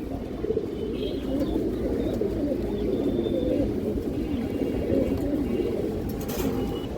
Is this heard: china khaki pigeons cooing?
yes